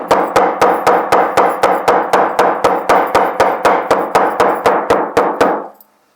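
A hammer pounds fresh flowers flat to release natural dye, striking about twenty times in a fast, steady rhythm, each blow loud and sharp, before stopping abruptly.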